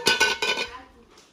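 Metal cooking pots are closed with lids and stacked one on another, giving three quick, close clanks and clinks that fade into a short quiet tail.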